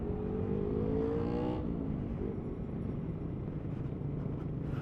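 Slow road traffic rolls past, car engines humming and whirring with one vehicle's rising tone fading, under a constant low rumble of nearby cars.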